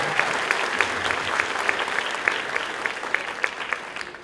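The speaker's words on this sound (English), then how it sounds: "go ahead and give them another round of applause" Audience at a school dedication ceremony applauds in a dense, sustained burst of clapping, with occasional louder individual claps standing out over the even roar.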